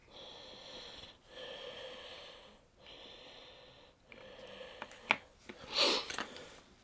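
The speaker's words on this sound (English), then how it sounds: "sorry about the heavy breathing" Heavy breathing from a man who has just run a marathon, close to the microphone: slow, loud breaths repeat about every second and a half, then a few sharper sniffs and rustles near the end.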